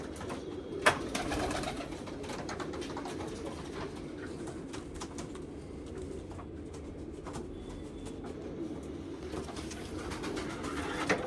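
Deoband pigeons, an old playing breed, coo in a dense low murmur that carries on throughout, with occasional clicks and a sharp knock near the start.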